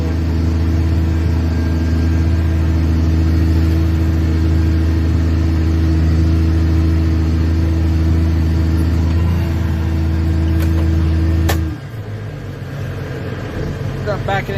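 A car drives down the road with a loud, steady engine drone that cuts off sharply near the end, leaving quieter low rumble and faint background noise.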